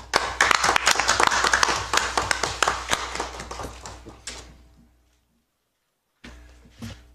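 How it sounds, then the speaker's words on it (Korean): An audience at a Democratic Party of Korea event applauds to welcome a speaker, a dense burst of clapping from a close crowd that gradually fades to silence before a few more claps resume. "이재성 고문님을 힘찬 박수로 맞아주십시오"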